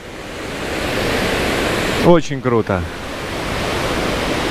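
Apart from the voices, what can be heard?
river rushing below a cliff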